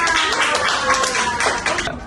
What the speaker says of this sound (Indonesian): Pintar, tepuk tangan buat Naca.